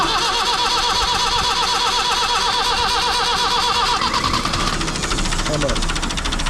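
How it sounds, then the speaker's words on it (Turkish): A tractor's starter motor cranking the engine, which has sat unused for 15 years and has newly fitted glow plugs, a loud steady whirring drone that shifts in pitch partway through, close and continuous. "Şimdi yine marş var. Marş bas."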